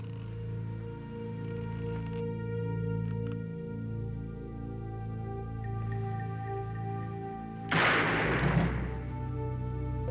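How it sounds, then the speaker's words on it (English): A single loud gunshot rings out near the end of a crime reenactment, a sharp sudden burst over a steady low droning music bed, with a brief ringing tail afterward. "T.K. Hardy was shot one time in the head."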